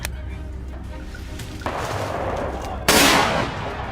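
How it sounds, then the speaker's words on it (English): A single sharp rifle shot fired outdoors during a wild boar hunt, cracking loudly near the end over a constant rustling, breezy background. "I loaded my rifle and fired the moment the signal came."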